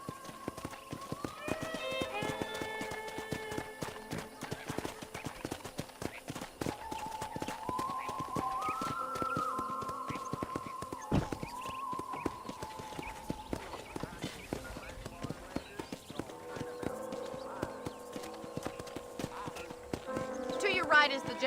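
Horse hooves clip-clopping steadily in Red Dead Redemption as riders travel toward a ranch, a continuous brisk rhythm of hoofbeats under frequent talking, with an occasional snort or whinny.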